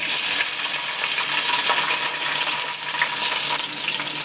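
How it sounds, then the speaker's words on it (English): Onion frying in oil in a pot for Jamaican callaloo and okra gives off a loud, even hiss of sizzling with faint crackle, close by and unbroken, without talk. "Alright, I'm gonna put my onion in there"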